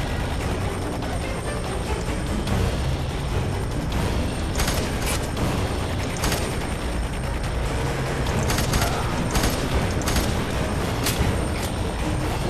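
Sustained gunfire and mechanical combat noise from FEAR 3, a dense, loud wash of shots with sharper cracks standing out every second or so, with no talk over it.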